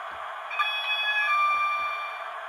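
A locomotive AWS warning test tone in a train simulator game sounds alone, a steady held beeping alarm with high pitched overtones running for a couple of seconds.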